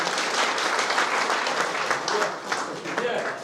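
A crowd at a Hindi-language stage event applauds the unopposed election of the stage chairman, producing a sustained, even roar of clapping throughout with voices mixed in.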